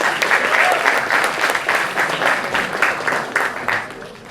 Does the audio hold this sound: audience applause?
yes